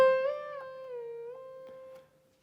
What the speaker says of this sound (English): the pitch bend range is on 2, so the pitch bend would sound like this